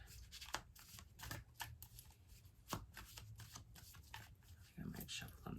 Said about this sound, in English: I like to ruffle shuffle my cards.